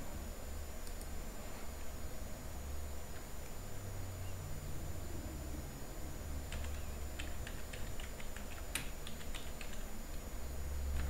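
Someone types on a computer keyboard while filling in a lesson page, with sparse soft key clicks near the start and a quicker burst of taps toward the end, over a steady low hum.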